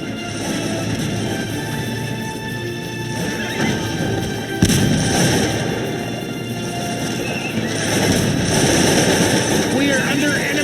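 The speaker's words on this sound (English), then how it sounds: "We are under enemy gunfire." Battle sounds from the strategy game Cossacks 2, Poland versus Russia: dense, continuous crackle of massed musket and rifle fire with horses whinnying, a sharp burst near the middle, loud and unbroken throughout.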